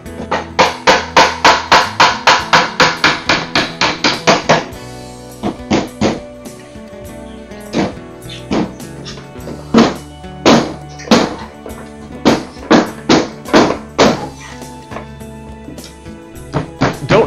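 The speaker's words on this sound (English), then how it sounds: "Don't drive all your tacks into the back of it." A hammer drives tacks into the back panel of an IKEA Hemnes dresser during assembly: a rapid, steady burst of close, sharp strikes, followed by slower, spaced single blows and short clusters of hits.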